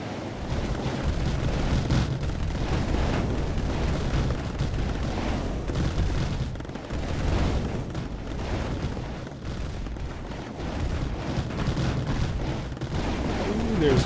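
Continuous barrage of turret fire and explosions rumbles through a Mindustry tank siege battle on Erekir, dense, loud and unbroken, with a missile turret shooting among heavy booms.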